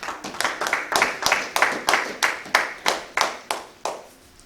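A church congregation gives a rhythmic hand-clap praise. Sharp claps come in unison at a steady beat, about two per second, and fade after the last few strikes.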